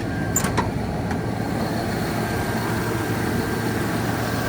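A parked truck's engine idles nearby during a battery jump-start, a steady low rumble that stays even throughout, with a couple of faint brief clicks and no speech.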